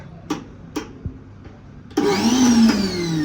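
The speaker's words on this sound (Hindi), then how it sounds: "पहले मिक्सी चला के दिखाओ" A few faint clicks and taps, then an electric mixer grinder whirs on loudly, its motor whine holding steady at close range.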